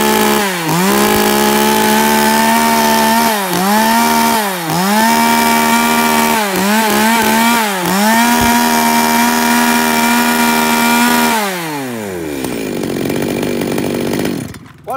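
A Japanese-market AC3 chainsaw engine runs loud and close, revved up and down in repeated surges at a high idle before winding down and sputtering near the end.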